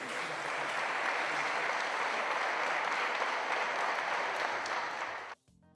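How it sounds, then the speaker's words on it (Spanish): Steady, dense applause from an audience after the swearing-in ceremony of Argentina's Interior Minister, filling the room at even loudness for about five seconds before cutting off abruptly. "Ahí estaban los aplausos"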